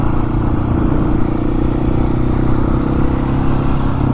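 A KTM 701 motorcycle holds a wheelie through a curve, its single-cylinder engine droning loud and steady under heavy wind rush, with no talking.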